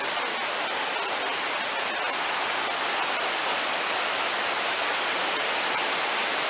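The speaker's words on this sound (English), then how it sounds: "It's really loud, the water." A waterfall roars nearby on a rainy walk in Scotland, a loud, dense, unbroken rush of water that fills the whole few seconds with no voices heard.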